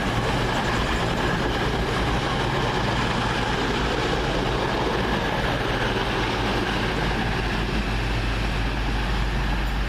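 Class 220 train 220005 rumbles through a station with a steady, loud engine drone and rail noise that holds at a constant level throughout.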